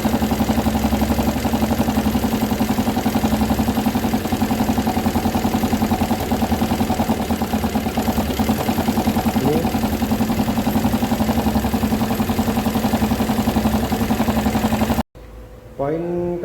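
A motorcycle engine idles steadily at around 1200 RPM, a close, continuous even drone with a faint background voice, then cuts off abruptly near the end.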